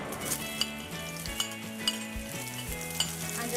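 Chopped onions sauté in coconut oil in a pot while making Trinidadian curried fish, a soft steady sizzle broken by a few sharp clinks of a spoon against the pot and a faint musical hum underneath.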